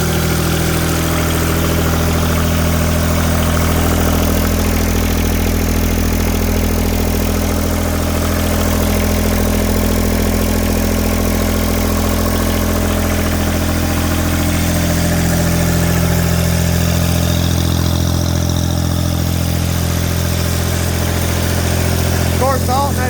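A diesel garden tractor engine, fitted with a turbo, idles steadily and loudly close by, a constant low rumble with a strong hum throughout.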